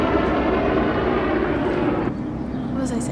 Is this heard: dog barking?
no